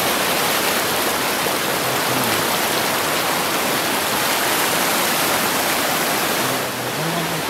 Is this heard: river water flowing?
yes